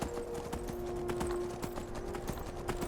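Horse hooves clip-clop at a steady walking pace in Skyrim, a regular run of sharp knocks over a low hum of game ambience.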